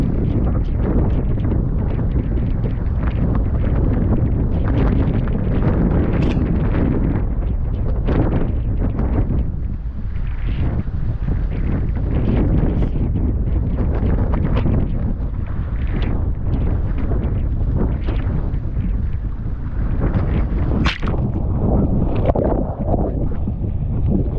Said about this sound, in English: It was really windy and there was big swell.